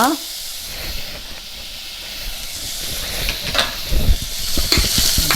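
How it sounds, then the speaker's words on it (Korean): Shredded radish sizzles and hisses as it stir-fries in perilla oil in a heated pot, a steady close frying noise with scraping stirs, under a speaking voice. "무채를 먼저 넣어서 볶아 주도록 할게요."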